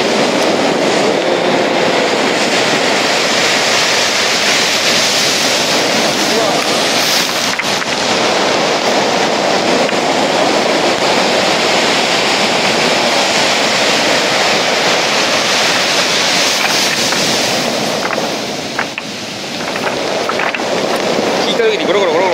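Receding waves drag stones at Nari-ishi beach in Tottori, producing a loud, continuous roaring wash with rumbling rolling that persists throughout and swells slightly near the end.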